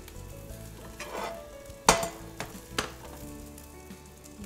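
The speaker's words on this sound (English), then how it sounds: "We'll turn this up just a little to cook the rest of the bacon here." Bacon sizzles steadily in a pan on a stovetop burner, with a sharp metallic clink near the middle and a few soft knocks of a utensil against the pan, no voices.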